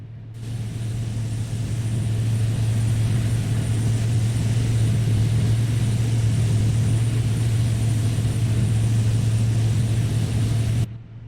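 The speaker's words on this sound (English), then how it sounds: "Green light comes on, engine number 4 is now firing into life." Four-engine C-130 Hercules turboprop running in the DCS flight simulator cold start, number 4 engine just lit, a steady loud droning hum with a strong low tone held evenly throughout.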